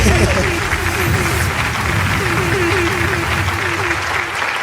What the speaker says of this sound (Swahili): Mpigie makofi tafadhali.